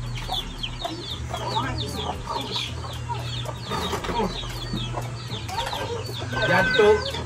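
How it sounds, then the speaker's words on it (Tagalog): Hen and rooster squabble in a farmyard with a rapid run of loud clucks, squawks and flapping bursts throughout, over a low steady hum and faint background voices. "The children is not arguing but the hen and the rooster. They're fighting each other."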